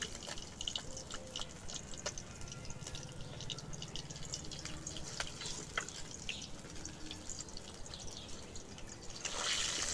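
Onion-filled kachori pastries deep-frying in hot oil in a village kitchen, a steady close bubbling sizzle with scattered crackling pops throughout, swelling slightly louder near the end, with no talking.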